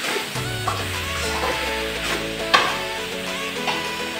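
Food frying in a pan with turmeric water added, a steady close sizzle with occasional stirring scrapes and a sharp crackle burst midway, no talking.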